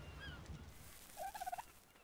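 A bird in the survival game Ark gives a rapid, gobbling burst of calls, faint and somewhat distant, after a brief high chirp and under low background noise.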